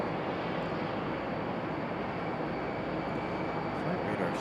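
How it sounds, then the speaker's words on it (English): A Delta Boeing 737-900 departs Raleigh Durham airport, a steady broadband jet roar holding at constant loudness throughout, heard from a distance with no talk. "Our 737-900 GP, about to head back to Atlanta, Georgia."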